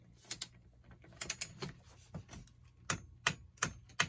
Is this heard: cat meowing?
no